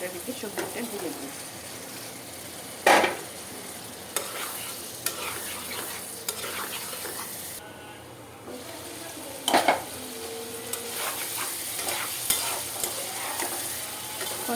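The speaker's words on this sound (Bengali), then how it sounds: "আলুটাকে একটু সুন্দর করে কষিয়ে নিলাম।" Potatoes and vegetables are stir-fried in a pan, a steady sizzle with repeated scraping strokes of a utensil against the pan, and a couple of louder clanks along the way.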